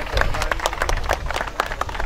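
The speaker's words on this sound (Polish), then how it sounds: "Wielkie brawa." Crowd applauding a bronze boxing medalist at a sports-day boxing event in Kielce, a dense burst of many hands clapping at close range, steady and lively for the whole stretch.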